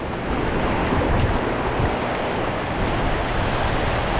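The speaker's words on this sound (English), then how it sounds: "a lot of you guys are probably looking at these rapids" Rushing river rapids below the Big Flowage Dam, a steady broadband roar of churning water with some wind buffeting the microphone, loud and continuous with no talk.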